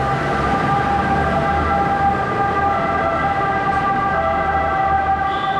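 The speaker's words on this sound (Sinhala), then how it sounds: "හැමතිස්සෙම ඇම්බියුලන්ස් යනවා" An ambulance siren wails steadily on a busy street in Naples, loud and near, with its pitch holding over a low rumble of passing traffic and no voices.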